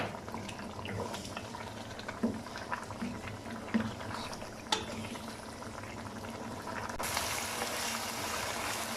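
Mutton karahi with a little water simmers on high heat in a pan, a constant bubbling hiss with occasional louder pops, growing slightly denser toward the end.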